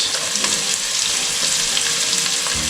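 Capsicum, beans and carrot fry in a hot pan for Hakka noodles, giving a loud, steady sizzle throughout with occasional soft stirring scrapes.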